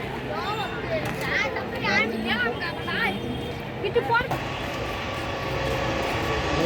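Twin-engine passenger airliner at Dhaka airport, its steady jet engine roar filling the background while people talk and chatter nearby throughout.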